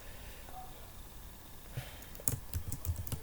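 Computer keyboard typing during Python coding, with a few quiet keystrokes early on and then a denser burst of clicks toward the end, close and fairly soft.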